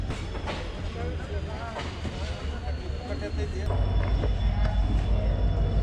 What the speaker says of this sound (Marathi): तर आता आपण पुणे स्टेशन सोडलेलं आहे.